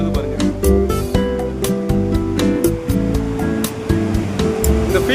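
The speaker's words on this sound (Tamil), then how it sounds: "தண்ணி எப்படி ஓடுது பாருங்கள்." Water rushing through Mettur Dam near Salem, at the Eight-Gate Bridge, a steady loud roar of flowing water running throughout, with a dense layer of music or tonal sound laid over it.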